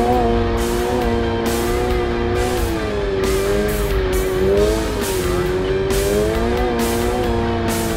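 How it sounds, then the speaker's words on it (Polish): A Toyota GR86 drifting and spinning, its engine droning loud and constant with rising and falling pitch while the tires squeal and scrub continuously, close up and without talk. "teraz to się kręcę wokół własnej osi i jeżdżę po studzienkach"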